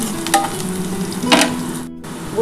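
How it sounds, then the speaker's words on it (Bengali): Sliced onions fry with whole garam masala in an oil-filled pan for a chicken and potato curry, giving a steady close sizzle broken by a few scraping stirs. "পেঁয়াজটা খুব ভালোভাবে ভাজা হয়ে এসছে"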